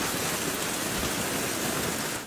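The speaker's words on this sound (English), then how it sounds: "it was flash after flash, with hail hitting the Blue Mountains" Heavy rain pouring down during a severe Sydney thunderstorm with hail, a dense continuous roar of drops on hard surfaces, loud and unbroken, then cutting off abruptly.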